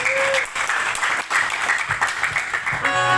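Loud, close applause from the congregation fills the hall at a church anniversary gathering of a Batak youth organization in Sanggau. Many hands clap in a steady, dense patter, with a brief swell of music near the end.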